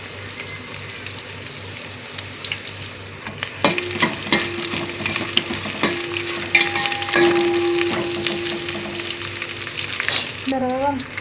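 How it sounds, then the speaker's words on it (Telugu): Onions and curry leaves fry in hot oil for a fish curry, a steady close sizzle running throughout with a few sharp stirring clinks and brief tonal scraping sounds over it. "బాగా బంగారు రంగు వచ్చే వరకు అలాగే ఉల్లిపాయలను ఆయిల్లో అలాగే వేగనివ్వాలి."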